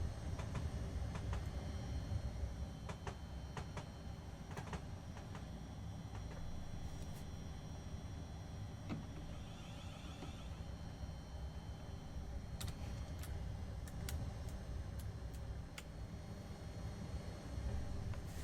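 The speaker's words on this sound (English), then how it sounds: "We've got track joint sounds at last." A Thameslink Class 700 train in Train Simulator 2022 rolls along with a steady low rumble, scattered sharp clicks from track joints rising above it, and no talk.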